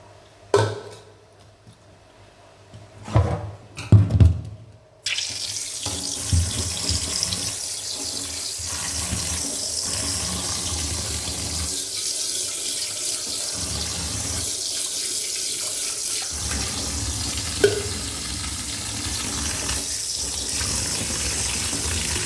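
Water runs steadily from a kitchen tap while washing, a continuous close splashing stream that starts abruptly after a few seconds of quieter handling sounds and carries on, with a brief clatter near the end.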